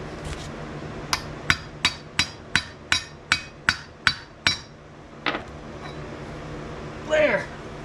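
Sharp hammer blows ring out during a Hellwig Frame FX kit install on a Chevelle restomod. About ten evenly spaced metallic strikes come in a steady run, followed by a few scattered clanks and someone speaking.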